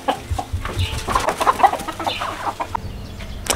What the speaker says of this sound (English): I got those dumb chickens to get out of this coop